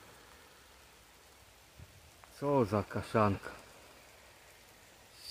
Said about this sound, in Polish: Widać zresztą na rzece, jak to pada.